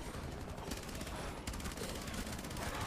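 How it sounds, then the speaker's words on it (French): Gunfire in the Rainbow Six Siege Outbreak video game, a steady dense rattle of shots running throughout, fairly faint and distant in the mix. "je crois que j'ai tiré sur quelqu'un"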